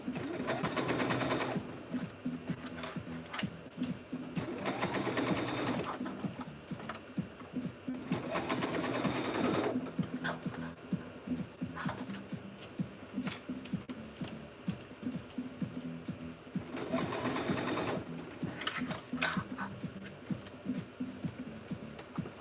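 A sewing machine stitches a bag in bursts of rapid, steady mechanical clatter, with several runs separated by quieter pauses, close by and fairly loud.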